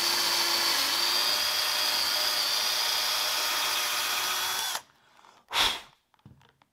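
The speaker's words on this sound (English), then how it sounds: "this is maple, so it's a little tougher to drill" A power drill whines steadily at high speed through maple wood for several seconds, then stops abruptly, followed by one short final burst and a few faint clicks.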